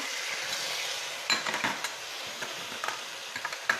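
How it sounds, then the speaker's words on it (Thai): Garlic frying in oil in a pan, a steady bright sizzle with light scraping and clinks of a utensil stirring, close and with no talk. "เราเจียวกระเทียมเริ่มเหลืองแล้วนะคะ"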